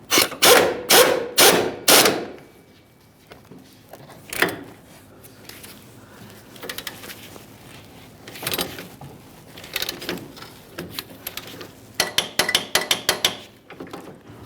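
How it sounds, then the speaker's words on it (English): A ratcheting wrench tightens a bolt on a rear shock of a 1994-2001 Dodge Ram 1500, with loud rapid clicking bursts at the start, then scattered metallic clicks and knocks, close up. "Let's go ahead and snug this up and torque it to 100 foot-pounds."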